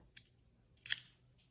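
Oversized scissors snipping through thin packaging material, one faint snip followed by a sharper, louder crisp cut, close and quiet with nothing else around.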